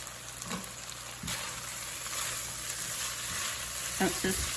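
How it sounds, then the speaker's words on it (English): Soft shell tacos sizzle and fry in a preheated hot skillet on a stovetop, a steady close crackle with a few louder scraping or stirring touches near the end. "I'm going to cook my soft shell tacos in a different skillet"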